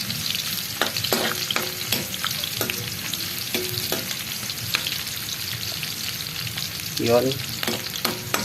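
Onions sautéing in a pan for a mixed vegetable dish, crackling sizzle with repeated sharp spatula taps and scrapes against the pan, and a brief voice over it.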